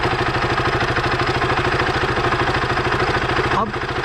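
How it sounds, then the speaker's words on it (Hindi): A KTM motorcycle engine idles close by, a steady rapid low chugging beat with mechanical clatter that holds evenly, then dips slightly near the end. "तो ये फ़िलहाल मैंने बाइक ऑन कर ली।"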